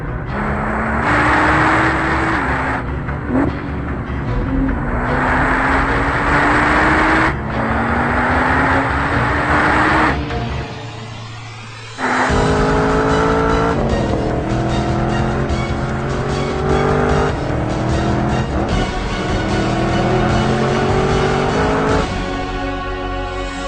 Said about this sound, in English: once the track was dry, it was time for Randy to set some fast laps